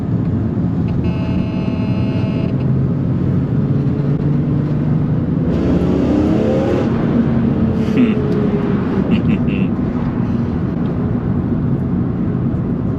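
A BMW E46 M3 engine in a continuous loud drone that swells and rises in pitch mid-way as it revs and accelerates, with a faint tonal whine at the start. No talking.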